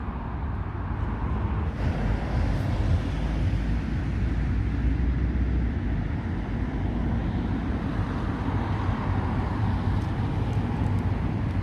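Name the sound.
road traffic passing a roundabout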